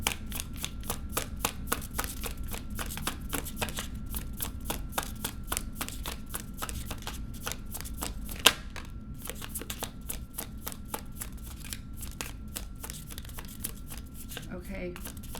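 A tarot deck is shuffled steadily for a long stretch, with a rapid, even riffling of cards close by under a quiet speaking voice.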